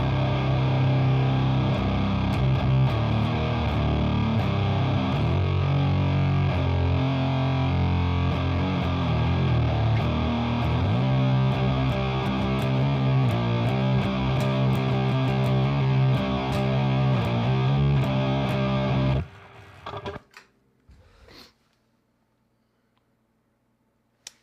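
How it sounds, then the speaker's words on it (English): Heavily distorted electric guitar through an HM2-style Doomsaw clone pedal with boosted low end, feeding a Sun Model T amp: a dense, saturated riff plays loud and steady for about nineteen seconds, then cuts off into brief scattered noises and silence. "What you were just hearing there was the Doomsaw."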